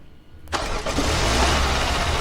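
A car engine in a Roblox game cranks and catches with a sudden loud burst, then settles into a steady, rumbling idle close by.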